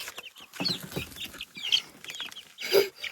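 Small chicks peep and chirp in a loose series of high calls, with a louder cluck-like note near the end, recorded close up while handled on an off-grid homestead.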